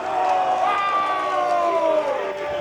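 A crowd at a high school baseball game, Prestonwood versus TCA, keeps up a steady roar of cheering and shouting, with a bright, wavering whistle or whoop running through it and no clear break.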